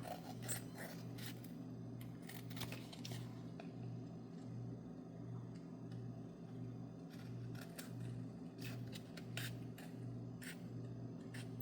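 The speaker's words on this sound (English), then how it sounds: "I'll just trim around that with scissors" Repeated crisp snipping and rasping cuts of scissors trimming a playing card, fairly close, over a steady low hum in the background.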